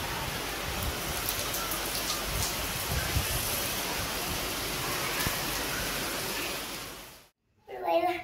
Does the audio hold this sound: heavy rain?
yes